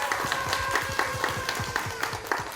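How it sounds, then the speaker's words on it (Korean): At a TV show press conference, a modest group claps in a fairly quiet, rhythmic patter, individual hand claps distinguishable under a low room murmur. "박수 한번 주시죠"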